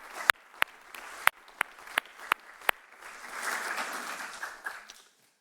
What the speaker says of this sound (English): Let's give them all a nice round of applause and thank them for their help